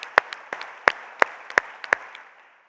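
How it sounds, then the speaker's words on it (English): Brief applause from an audience at the ServiceNow World Forum keynote in New York City: a handful of sparse, separate claps that quickly thin out and fade to silence. "we can give Lauren a round of applause"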